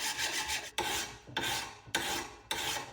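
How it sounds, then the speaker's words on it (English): Hand file rasping along a push mower blade in four firm strokes, each a bright scraping rasp separated by brief pauses, close and clear with no talking. "I find it best to finish it off with the file anyway."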